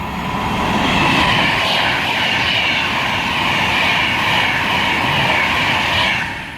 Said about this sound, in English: approaching is going to be a 390 Pendolino bound for Glasgow Central